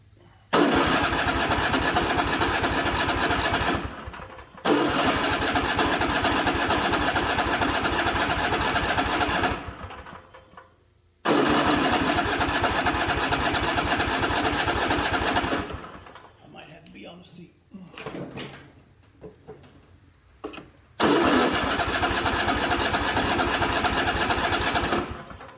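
A Cub Cadet XT1 lawn tractor engine cranks loudly in several long starter bursts separated by pauses, with a brief sputter between tries, close to the listener.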